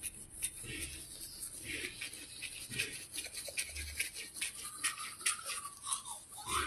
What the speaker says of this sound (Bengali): এখন আমরা ব্রাশ করে নিলাম।